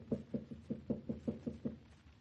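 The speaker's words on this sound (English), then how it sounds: "I shall knock." A radio-drama sound effect of knuckles knocking on a door: about eight quick, even raps in a steady run, close and fairly soft, alone without talk.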